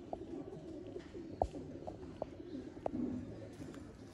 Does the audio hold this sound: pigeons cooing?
yes